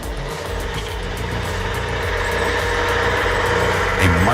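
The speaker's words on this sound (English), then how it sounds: "The truck roared like a beast awakened, ready to devour the snowy slope." A logging truck's engine rumbles heavily on a snowy slope, building steadily in loudness with a deep low-end drone, then surging at the end as it starts off.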